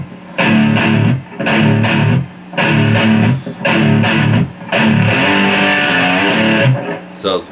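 Distorted electric guitar playing a verse breakdown riff, chugging palm-muted bursts in a blues feel, repeated in loud stop-start phrases separated by brief gaps.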